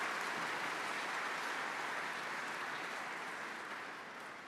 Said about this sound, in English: Let's give him a round of applause and welcome him.